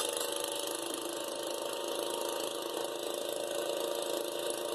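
A garden tractor engine runs steadily at nearly full throttle in high gear, a constant loud buzzing drone with no breaks or speech over it.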